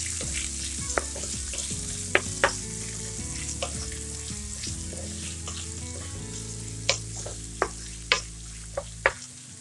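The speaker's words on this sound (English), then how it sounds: "I'm gonna add 2 green chilies and 2 small onions" Onions and green chilies fry in a pan, a constant close sizzle broken by a few sharp clinks and taps from stirring, with music or a tonal hum underneath and no talking.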